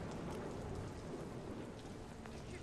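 Steady rain hisses across the whole stretch in Watch Dogs, a dense, even wash of drops with low rumbling underneath, constant and fairly close with no talk over it.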